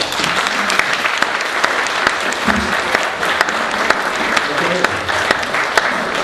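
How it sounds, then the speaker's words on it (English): A meeting room audience gives a steady round of applause at a civic program on a Bellingham Bill of Rights, dense claps sustained evenly throughout with a few sharper individual claps standing out. "How about a big round of applause?"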